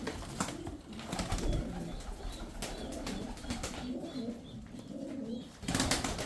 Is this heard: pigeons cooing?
yes